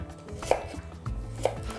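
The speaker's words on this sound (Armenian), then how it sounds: "3 բջեղ սխտոր մանր կտրատում և լցնում ենք հարիչի ամանի մեջ։" Garlic cloves chopped with a knife on a board, two or three crisp close knocks against a faint background hum, no voices.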